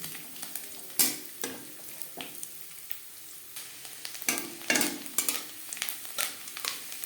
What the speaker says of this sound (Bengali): নারকেল ভাজা হয়ে গেছে